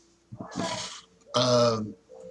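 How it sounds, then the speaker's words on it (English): Two loud, close belches in succession, the second longer and deeper, with a brief quiet gap between them. "Excuse the belch, yes, I didn't even realize."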